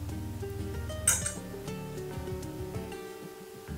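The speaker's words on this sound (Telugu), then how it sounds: "ఒకసారి మొత్తం కలిపేసుకొని స్టవ్ ఆఫ్ చేసుకుందాం." A spoon clinks and scrapes inside a pot of Rayalaseema katte pongali made with ghee as it is stirred, with a sharp metallic knock near the start and soft music playing underneath.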